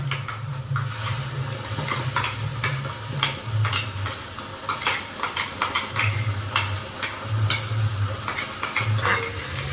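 Chili and garlic paste fries in a pan with onions, sizzling continuously while a utensil stirs and scrapes against the pan in repeated strokes. The frying is close and fairly loud, and no one speaks.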